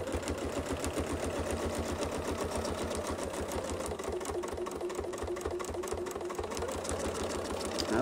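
A sewing machine stitches a quilt using a Westalee Design mini Baptist fan template, giving a close, continuous rapid mechanical chatter with an even rhythm throughout.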